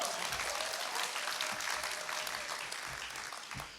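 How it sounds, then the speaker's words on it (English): A graduation crowd at a business school commencement ceremony claps continuously, a dense and even patter that fades slightly toward the end, with no talking over it. "by the time I've finished, you should be clapping."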